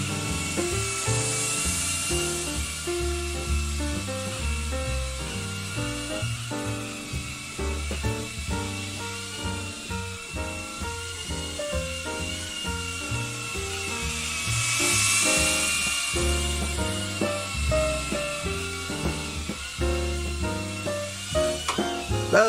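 A small FPV drone flies indoors through a house, its high-pitched buzzing whine running continuously and rising and falling in pitch as it speeds up and maneuvers, with occasional rattles and knocks.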